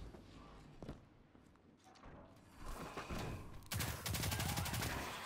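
Gunfire in the video game Destiny 2 during a Skolas, Kell of Kells nightmare hunt: scattered shots and thuds at first, then a dense, loud rapid-fire stretch in the last second and a half.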